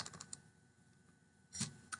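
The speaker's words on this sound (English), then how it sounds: "I'm going to type here." Faint computer keyboard typing gives a few scattered soft key clicks, then a brief louder cluster of strokes near the end, in a quiet room.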